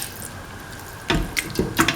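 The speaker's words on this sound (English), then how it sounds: "Pour in around 100 to 150 ml of water." Water poured from a tap into a cooking pan for a carrot French toast sandwich, a steady splashing stream over a background hiss, with a few louder gushes and splashes toward the end.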